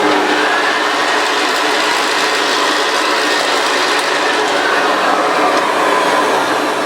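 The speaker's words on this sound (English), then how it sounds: "Listen to how slow the wind down goes" Steady broadband whir of a Hoover U4082 Contract Commercial upright vacuum cleaner motor running down, loud and close, with an even, sustained hum that holds nearly constant through the whole stretch without any speech.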